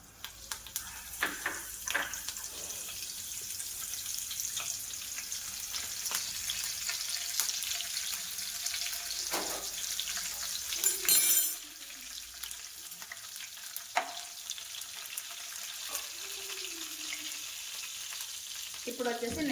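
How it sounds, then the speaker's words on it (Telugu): Cumin seeds and curry leaves hit hot oil for a Telugu amaranth-leaf fry, giving a close, steady sizzle with scattered crackles and one sharp, loud spattering burst partway through before settling back to an even hiss. "ఇప్పుడు ఆయిల్ బాగా హీట్ అయిన తర్వాత ఫస్ట్ జీలకర్ర వేసుకుందాం"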